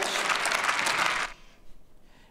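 Applause for Angela Merkel in the German parliament, a loud crowded clatter of clapping that cuts off abruptly after about a second and a half, leaving quiet room sound.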